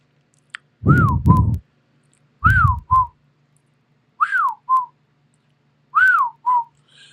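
A soft, hooting call repeats four times in two-note phrases, each a rising-falling coo followed by a shorter one, clear against a quiet background.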